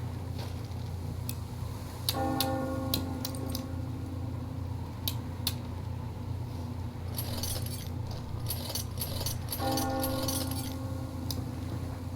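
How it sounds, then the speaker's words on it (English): A bell rings in a video game, with two bright metallic bursts separated by several seconds over a low background hum and scattered clicks. "Do you hear that bell?"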